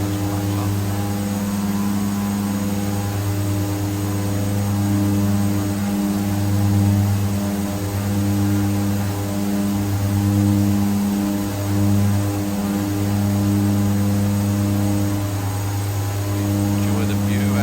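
Twin Otter turboprop engines in flight near Princess Juliana, St Maarten, a loud steady drone with strong low harmonics and slight beating, droning continuously throughout from inside the aircraft.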